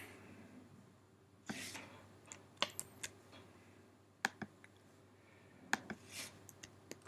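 Sparse, crisp keyboard taps and mouse clicks during a copy-paste in a word processor, arriving in irregular short bursts and single clicks over a quiet background, with no talking.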